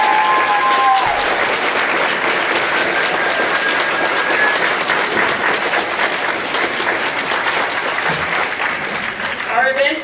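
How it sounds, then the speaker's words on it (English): At a spring fashion show, an audience gives a loud, sustained round of applause, dense clapping filling the room with a few whoops, and a voice speaks briefly over it near the start. "Let's give them and our generous sponsors a round of applause."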